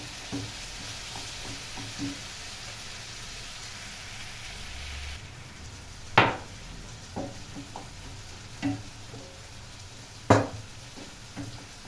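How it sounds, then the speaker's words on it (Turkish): Chicken liver sautéing with tomato paste in a pan, a soft steady sizzle under occasional sharp scrapes and clinks of stirring, fairly quiet and close. "Salçayla, ciğerle biraz kavruldular."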